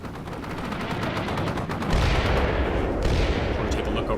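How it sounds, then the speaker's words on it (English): Enemy artillery and gunfire in the war game Combat Mission Shock Force 2 crackle in rapid overlapping bursts, with heavier booming blasts joining partway through. "We are definitely getting some rounds here, but I'm thinking it's probably just enemy artillery."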